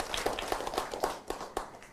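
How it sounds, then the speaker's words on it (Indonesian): Studio audience at a TVRI Bali talk show claps in a sparse, fairly faint patter of individual hand claps, irregular and slightly distant. "Silakan tepuk tangan Bapak Ibu."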